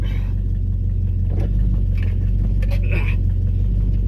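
A 1969 Buick Skylark GS with no power steering drives along, its engine giving a steady low rumble throughout with faint rattles and a voice now and then.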